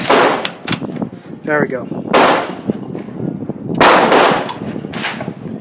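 Sharp, loud reports from a Yugoslavian SKS M59/66 rifle, several broadband bursts spaced a second or two apart, with someone talking between shots.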